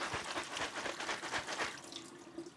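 Soaked sprouted almonds are rinsed under running tap water, a soft splashing, sloshing flow with uneven pulses as the nuts are moved about, fairly quiet and close with no speech.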